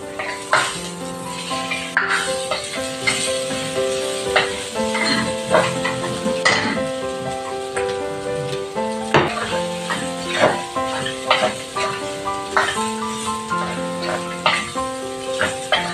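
Meat sizzling and frying in a pan while cooking dinuguan, with steady crackle under intermittent clanks and scrapes of stirring utensils, close and moderately loud, no voices.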